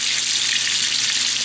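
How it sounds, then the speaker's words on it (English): Filet steaks sear in a hot pan, giving a loud, dense, continuous sizzle with a crackling hiss that holds steady throughout, with no talking. "You don't want to crowd the meat because we don't want it to boil, we want it to brown, to sear."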